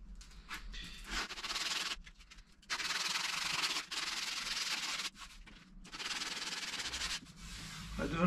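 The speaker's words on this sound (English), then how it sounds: "giving them a quick sand up" Repeated bursts of scratchy hand sanding on wood for a gate, several long strokes with brief pauses between them, close and loud.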